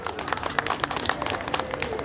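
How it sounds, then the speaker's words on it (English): Audience at an Oregon Country Fair accessibility panel on an outdoor stage claps for a first-time fair participant, a brief patter of many hands at moderate distance. "So everybody give her a round of applause for her very first fair."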